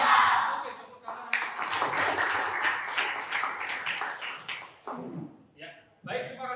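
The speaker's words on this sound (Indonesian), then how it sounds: "Oke, tepuk tangan." A primary school class of children clapping hands together in the classroom, dense rhythmic clapping for several seconds that breaks off, followed by a few short bursts, with a teacher's voice around it.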